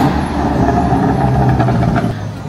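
Cars passing at the famous roundabout in Monaco, a steady loud roar of engines and tires as vehicles go by, with traffic noise rising and falling throughout.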